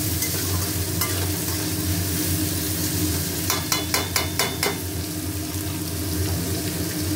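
Food frying in a pan and being stirred, with a steady close sizzle throughout and a brief burst of quick scraping strokes partway through.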